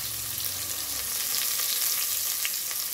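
Onion, green chilies and curry leaves sautéing in a pan for mutton biryani, a dense, even hiss of frying with faint stirring clicks, close and steady throughout.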